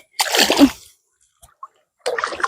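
Water splashing in a pond while hands grope for snails, one close churning splash followed by a quiet gap, a couple of small drips, then another burst of sloshing.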